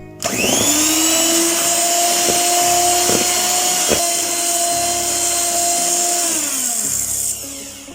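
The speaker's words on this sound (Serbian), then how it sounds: "Pa sve ponovo izradite mikserom." An electric hand mixer whips sour cream and sugar into whipped sweet cream, a loud steady motor whine that runs for about seven seconds with a few brief knocks as the beaters touch the bowl, then winds down.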